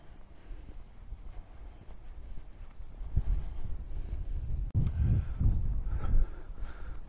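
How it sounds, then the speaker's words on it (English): Wind gusting across open fields near South Darenth and Horton Kirby, buffeting the microphone in a steady low rumble that swells into stronger, louder gusts partway through, with no talk over it. "the wind's picking up somewhat"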